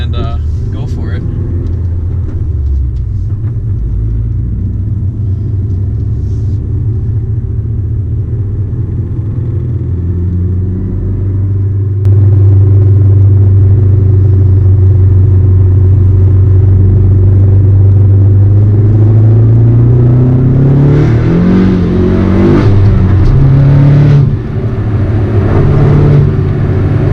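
A big-turbo Ford Focus ST drives on a road with a loud, low engine rumble from inside the cabin, swelling into harder acceleration midway and late, while people talk over it.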